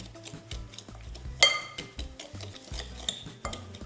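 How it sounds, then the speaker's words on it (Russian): Butter and sugar being creamed with a fork in a bowl, giving a run of quiet, rhythmic scraping and clinking taps of metal against the dish, close up with no talking. "Растираем масло с сахаром при помощи вилки"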